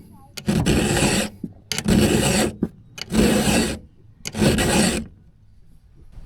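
File sharpening the teeth of a chainsaw chain, four separate bursts of close, rasping strokes with brief gaps between them.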